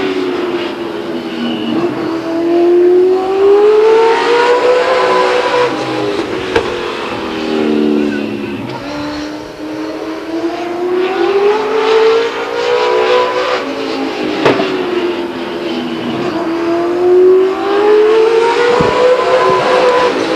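A late model stock race car laps Stockton 99 Speedway, its engine rising and falling in long smooth sweeps as it passes and circles the track, loud and continuous.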